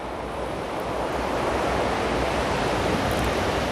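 Surf rolls onto a beach near Mangalore on a cloudy evening, a steady broadband wash of waves mixed with wind rumble on the microphone, continuous and fairly loud with no voices.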